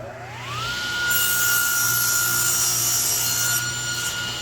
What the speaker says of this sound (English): we're going to have to cut this board down to the thickness of the original one